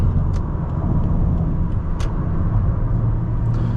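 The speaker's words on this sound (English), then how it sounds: "Goes over the bumps really nicely" A 2010 Lexus ES350 drives over road bumps, giving a steady muffled road rumble inside the cabin with a couple of soft thumps from the suspension and no talking.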